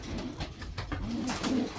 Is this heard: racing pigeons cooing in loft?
yes